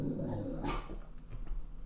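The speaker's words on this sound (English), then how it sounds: "Guard dogs." A guard dog growls low and steady, then gives a few short sharp barks, close and fairly loud, with no one talking.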